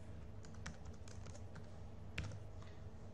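Keys clatter on a computer keyboard while code is entered for an Android calculator app, a few scattered close taps over a steady low hum.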